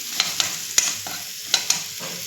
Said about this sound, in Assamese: এতিয়া বুটখিনি ভাজি আছোঁ চাহৰ লগত খাবৰ কাৰণে ধুনীয়াকৈ